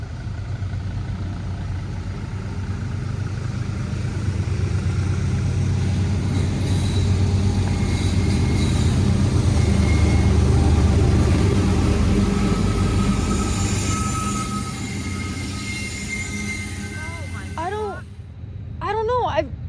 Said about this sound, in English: and then a train came by.